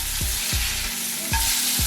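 Burger patty in a pan with buttered buns nearby, sizzling loudly right after being flipped, with rhythmic pressing or scraping thumps repeating about every half second over the constant frying hiss.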